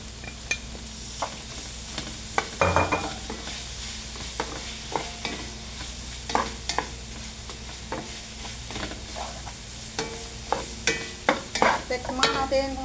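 Shrimp fried rice being stir-fried in a pan, with repeated scraping and tossing strokes of a spatula over a low sizzle, irregular clanks and scrapes close by.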